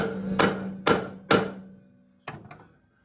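Three loud, evenly spaced hammer strikes ring out while mounting an engine and transmission in a Mk2 Ford Escort, followed by two lighter taps after a short pause.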